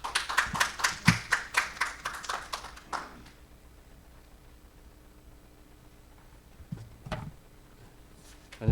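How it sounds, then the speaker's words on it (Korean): An audience claps to welcome a presenter at an ESG forum lecture, giving a short burst of rhythmic hand claps that fades after about three seconds, followed by near silence and a couple of isolated taps. "박수로 맞아주시기 바랍니다."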